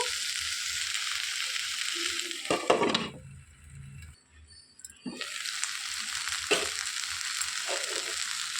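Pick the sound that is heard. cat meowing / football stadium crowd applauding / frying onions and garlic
frying onions and garlic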